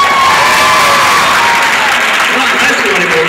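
A concert audience applauds and cheers continuously at a high school musical reunion, a dense, loud wash of clapping with voices shouting throughout.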